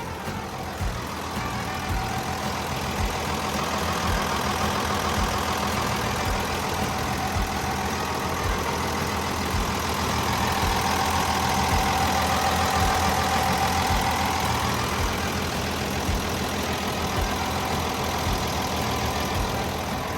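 A Komatsu 6D125 six-cylinder diesel engine in a Komatsu WA470-7 wheel loader idles steadily, a loud continuous low rumble with a knocking texture and no voices.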